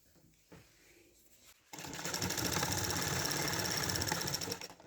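A sewing machine runs steadily and close up, stitching the hem of a petticoat made for an expensive sari, a fast, even mechanical whir after a few quiet handling sounds.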